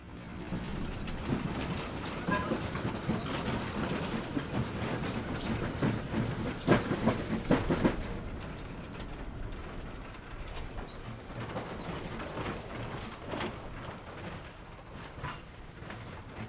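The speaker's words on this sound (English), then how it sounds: "I was surprised to see Baldwin-100 shunting from one track over to the other" Baldwin-100, a steam tram locomotive running without rolling stock, shunts from one track to another, giving a low rumble with wheel and rail clatter and a brief burst of squeal and hiss partway through, steady and moderately distant.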